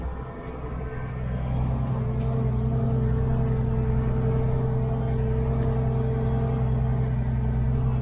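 A tractor engine rakes corn stalks in the field, a steady low droning rumble that swells up after the first second and then holds even and loud, with no voices.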